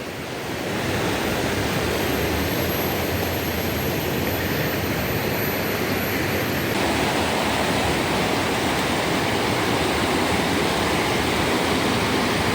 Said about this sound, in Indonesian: pagi-pagi melihat sungai dengan aliran air yang jernih dan cukup deras